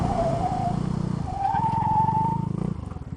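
Kymco People 300 GTi scooter skidding under hard rear-brake-only braking on tarmac, a loud close tyre squeal in two bursts with engine rumble underneath, leaving long black lines.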